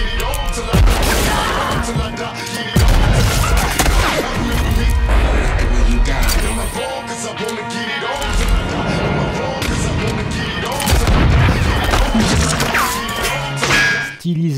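Gunfire from a movie shootout, with repeated loud cracks, crashes and booming impacts packed densely across the whole stretch, layered over dramatic music and scattered voices.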